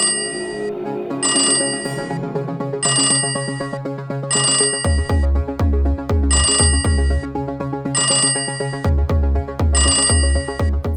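Repeated electronic ringtone bursts from a phone calling a bank, loud and steady in even pulses with a low bass pattern underneath, and no talking.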